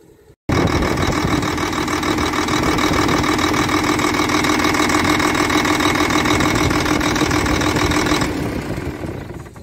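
The engine of a Volvo 460 excavator that cuts out after running for about a minute fires up abruptly after a short quiet moment, then runs with a loud, steady, mid-pitched clatter before easing down near the end.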